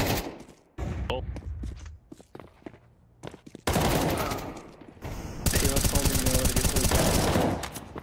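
Rapid gunfire in a Counter-Strike 2 Premier match, with bursts of automatic shots and footsteps layered over close talk from players in voice chat, loudest and densest in the final few seconds.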